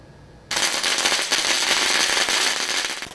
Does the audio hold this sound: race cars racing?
no